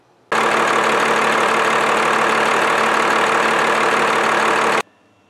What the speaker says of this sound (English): the engine actually runs a bit smoother when you lug it down into the low RPMs